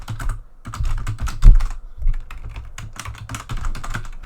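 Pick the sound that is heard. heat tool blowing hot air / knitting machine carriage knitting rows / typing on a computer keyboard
typing on a computer keyboard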